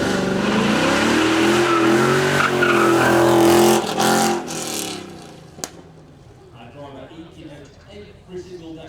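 A Corvette with a 5.7-litre front-mounted V8 roars loudly through a supercar demonstration run, holding a sustained high-revving blare for about four seconds before fading away into distant crowd and ambient noise.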